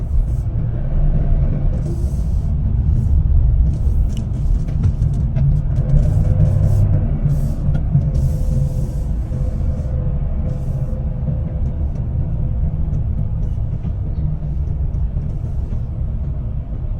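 A vehicle drives through the streets of Geneva, Switzerland, its steady, close engine and road rumble running continuously for the whole stretch with no speech.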